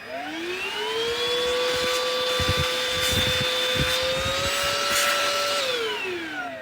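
A PERSAVE P70 cordless vacuum cleaner runs close by, a loud steady motor whine with a high tone that rises as it speeds up and drops as it winds down, with no voices.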